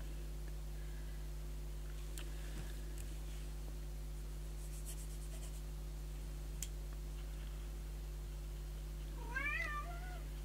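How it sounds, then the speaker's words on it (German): Small black-and-white tomcat giving a single short meow at the very end of a quiet indoor stretch, faint against a steady low hum with a few light ticks and scratches earlier. "Ein kleiner schwarz-weißer Kater ist wieder hier."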